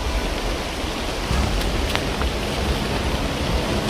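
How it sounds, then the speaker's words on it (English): Heavy rain pours steadily at night, a dense, loud, continuous hiss with a low rumble beneath and no voices. "The rain was now a handicap because we couldn't hear anything at all."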